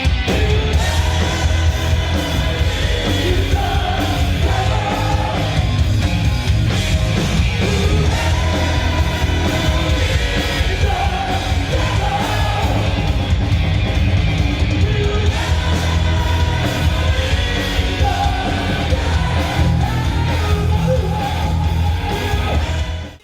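Fans at the exit after a band concert on a Brazilian tour shout and cheer in a loud, continuous roar of mixed voices that holds steady from start to finish.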